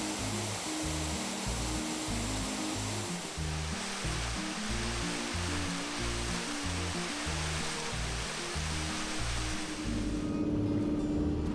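Continuous roar of sea waves and surf on the Moroccan coast, steady and full-bodied, mixed with a rhythmic low musical pulse that fades near the end, leaving the surf alone.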